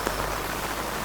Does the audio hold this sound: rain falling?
yes